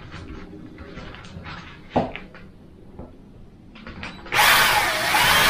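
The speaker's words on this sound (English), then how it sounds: "then drill all the way through" A power drill whirs loudly after a few quiet knocks and clatters, drilling a hole all the way through for an airbrush holder, running steadily through to the end.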